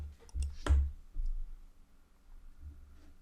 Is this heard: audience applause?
no